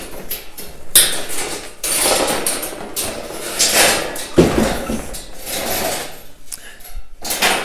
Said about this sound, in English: we can make those finishing cuts with the sawzall